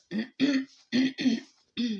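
A series of throat-clearing coughs, five short harsh bursts in close succession, near and fairly loud with brief pauses between.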